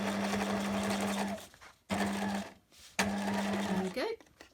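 Sewing machine stitching across a plastic zip on a faux leather purse or pouch, its steady motor hum running in three bursts with short pauses between them, close and fairly loud, with a brief squeak at the end.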